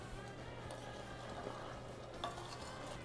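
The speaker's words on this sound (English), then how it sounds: "the syrup, which is the juice from the strawberry and the sugar, is starting to simmer. So I'm just gonna mix those in a little bit more" Strawberry and sugar syrup simmers in a pot for quick jam while it is stirred. A soft, steady bubbling and sizzling hiss is broken by occasional faint scrapes of the spoon, with no talk.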